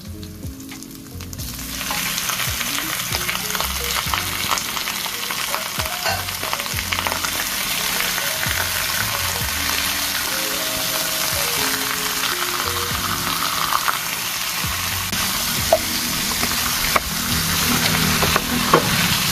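Chicken fries in a hot pan, a steady, loud crackling sizzle that runs unbroken from start to finish with faint stirring clatter and no talking.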